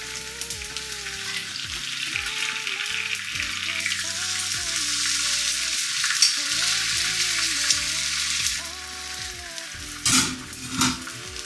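A Japanese rolled omelette fries in a pan with a steady close sizzle, while a soft tonal melody plays underneath throughout; a couple of louder scraping clatters come near the end.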